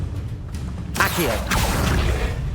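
Accio summoning spell cast in Hogwarts Legacy: a quiet rumbling backdrop broken by a sudden bright swoosh about a second in, then a second rushing burst that carries on to the end.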